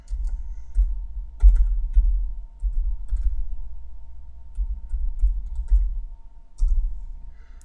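Keys are tapped on a computer keyboard while a command is typed into Stata statistical software, with soft, low, uneven clicks and thumps in short bursts across the clip and no voice.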